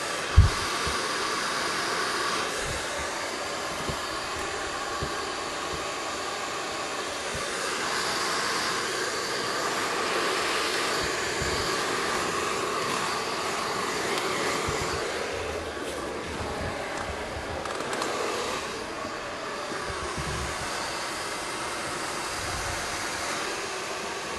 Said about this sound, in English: my blow dryer, I'm kind of pointing it out away from the hair so it's not hitting anything underneath.